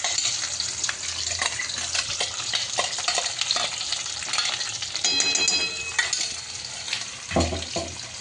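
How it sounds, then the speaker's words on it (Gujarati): Paneer tikka masala gravy frying in hot oil over a low flame, with a steady sizzle and stirring scrapes close up, a few louder splutters near the end. "હવે આપણે તેલ થોડું ગરમ થઈ ગયું છે, તો ધીમા ગેસ ઉપર ફરીથી આપણે આને ફ્રાય કરીશું।"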